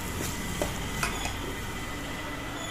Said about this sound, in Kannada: ಪುಟಾಣಿ ಹಿಟ್ಟಿಗೆ ನಾನು ನೀರನ್ನ ಹಾಕಿ ಚೆನ್ನಾಗಿ ಕಲಸಿ ಲಮ್ಸ್ ಇಲ್ಲಾರ್ದ ಕಲಸ್ಕೊಳಕತ್ತೀನಿ